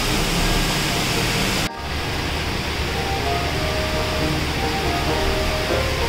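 Steady rain pouring down outdoors, a dense, even hiss that stays loud throughout with one brief dip near the start and no voices.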